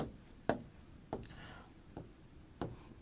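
Chalk tapping and scraping across a classroom board in four distinct, evenly spaced strokes, each a sharp close click trailing into a brief scratch, quiet room with no speech.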